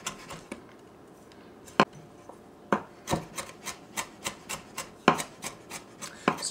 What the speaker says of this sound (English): So going to give this a nice little fine chop.